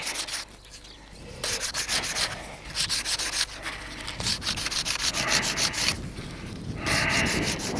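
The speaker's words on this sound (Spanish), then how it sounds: "voy a coger la lija y le daremos una lijada" Sandpaper rubs against pine wood in rhythmic back-and-forth strokes, close and scratchy, with brief pauses between bursts, while making a shepherd's flute from bull horn and pine.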